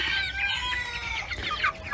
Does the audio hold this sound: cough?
no